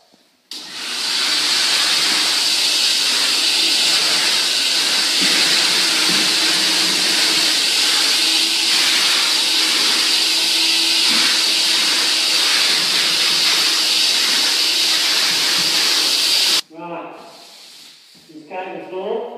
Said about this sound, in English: Now we're just going to vacuum the floor for the final coat, and we normally vacuum it twice.